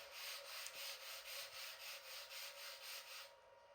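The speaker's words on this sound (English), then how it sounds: "with a sanding block, once again, I'm going to sand up and down the wingspan there of that aileron strip" A sanding block rubs up and down a balsa aileron strip along a model plane wingspan, about ten steady rhythmic strokes, close and quiet, with no voices.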